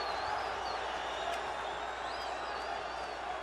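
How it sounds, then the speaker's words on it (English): An arena crowd at a World Series of Boxing super heavyweight bout between the Uzbek Tigers and Cuba Domadores, cheering in a steady, moderately distant roar, with a few whistles rising above it. "With the crowd enjoying this performance from their big super heavyweights"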